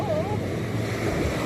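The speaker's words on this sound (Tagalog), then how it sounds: "Ang laki ng wave" Heavy ocean waves churn in a close, unbroken rushing roar, steady in loudness, with a hint of a voice early on.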